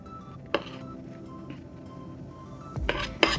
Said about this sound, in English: So we're just gonna stir this up.